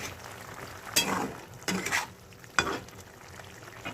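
A spoon stirs a fish curry with cauliflower and potato in a pan, three brief scraping strokes over a soft simmering sizzle, close and fairly quiet, with no voices.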